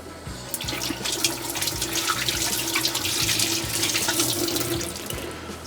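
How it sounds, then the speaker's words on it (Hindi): Hand washing under a running kitchen tap, a steady close splash of water on hands and sink basin that runs throughout with small surges and dips, no voices. "हाथ धो लेते हैं और फिर आते हैं।"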